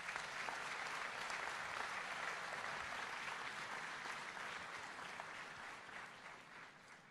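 Guests at a Coptic gala dinner in Melbourne for Pope Tawadros II applaud in a soft, distant, sustained patter of many hands, tapering slightly toward the end.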